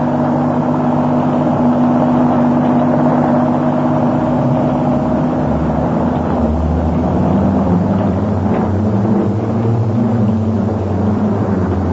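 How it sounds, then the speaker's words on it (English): Steady low rumble of a car engine running continuously, close and loud, with no voices. "Somebody's heard the car."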